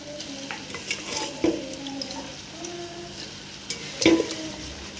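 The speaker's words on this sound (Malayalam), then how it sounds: "നമുക്ക് ചിക്കൻ ഇട്ട് കൊടുക്കാം." Chicken being stirred in a pan for biryani, with quiet scraping and a faint sizzle, punctuated by a couple of sharper clatters of the utensil against the pot.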